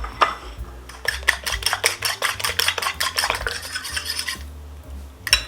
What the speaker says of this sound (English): Now we have to take our 3 eggs and beat them in a bowl